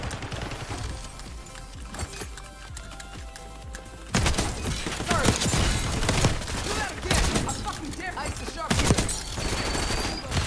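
Video game gunfire, rapid sustained bursts of shots that grow denser and louder partway through, with someone talking over the shooting.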